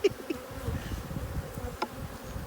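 Honey bees swarming over an open hive during an inspection, including drones, give off a steady, close, droning buzz that stays at an even level throughout with no talking.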